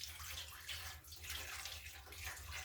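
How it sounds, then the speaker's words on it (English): Hot water poured from a container into a baking pan, a soft steady splashing trickle with faint gurgling, close and fairly quiet, no talk. "So in here I have some hot water. I'm going to add it to this pan."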